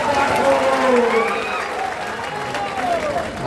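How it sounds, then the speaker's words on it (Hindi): A crowd at a political rally applauding, dense sustained clapping mixed with a voice speaking over it throughout. "एक बार बिंदौर के लिए ताली लगाइएगा।"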